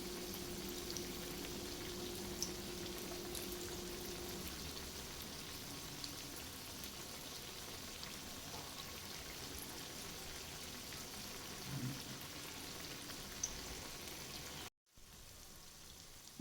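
Rava unniyappam batter frying in oil in an appam pan gives a soft, steady sizzle and crackle, faint and continuous, before cutting off near the end.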